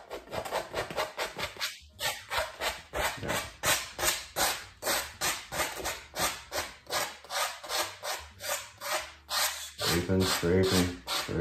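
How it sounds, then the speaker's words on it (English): A pallet knife scraping oil paint across a black canvas, a steady rhythm of loud, close rasping strokes, roughly two per second, continuing alone for the whole stretch. "Scraping, scraping, scraping."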